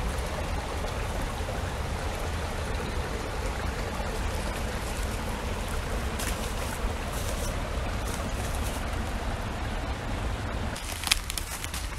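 Buttermilk Falls, a waterfall, pours in a constant broad rushing roar from nearby, unbroken throughout, with no voices over it.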